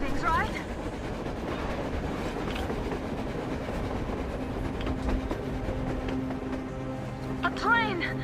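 A train rolls along on the surface in the video game Metro Exodus, its steady rumble and clickety-clack running throughout while voices talk over it near the end.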